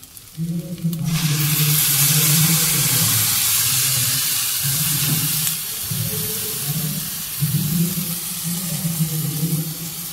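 A little water poured into a hot pan of chicken and egg curry bursts into a loud, bright hissing sizzle that settles into steady steaming, with a spatula stirring and scraping through it.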